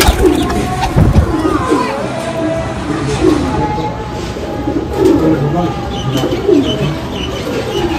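Golden Kamagar pigeons coo and flutter as they are released upward from a loft, with repeated soft calls and a sharp burst of wing noise near the start, under a busy background.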